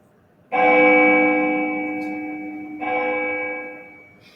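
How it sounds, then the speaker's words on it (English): A single bell rings out with a bright sustained tone and slowly fades, then is struck again more softly, alone against quiet. "The bell summons me."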